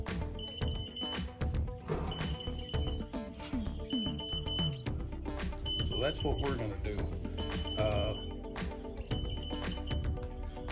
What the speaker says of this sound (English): So that's my timer going off.